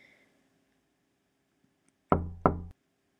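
Two loud, close knocks on a door in the horror video game The Crooked Man, struck in quick succession after near silence, each with a short resonant decay.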